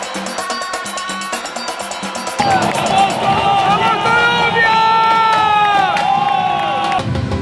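A football stadium crowd at the Copa América roars into a loud, sustained ovation that swells suddenly partway through and stays dense and steady, with tonal chanting or horn-like notes over the broad cheering.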